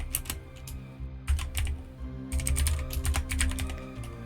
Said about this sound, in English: Let's do this on my noisy keyboard.